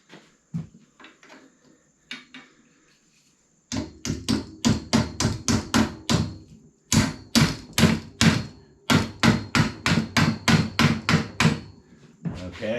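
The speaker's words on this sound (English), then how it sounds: "But this, we're going to use the trusty bronze hammer." A bronze hammer strikes a part on a Schwinn bicycle frame in a series of sharp, ringing metallic blows, a few scattered taps first, then rapid steady bursts of hits repeated close to the microphone.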